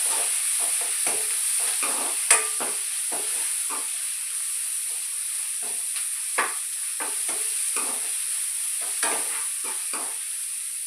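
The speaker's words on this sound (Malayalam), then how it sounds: "അതിന് ശാല ഉപ്പിന് ചേർത്ത് ഇളക്കാം." Onions frying with salt in a pan, stirred with repeated soft scraping strokes over a constant bright sizzle, close up with no talking.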